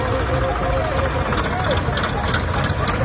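Tractors idle in line at a Punjab farmers' union tractor march, a continuous low engine rumble with some knocking, while people talk loudly over it.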